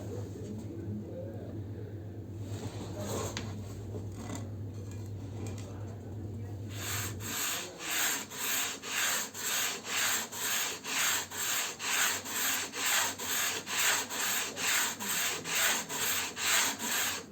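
Sandpaper is rubbed along the fingerboard of a fretless classical guitar, first in scattered strokes, then in a steady back-and-forth rhythm of rasping passes, close and loud, with talk at the start.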